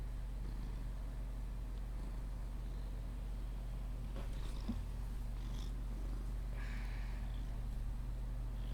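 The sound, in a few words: cat purring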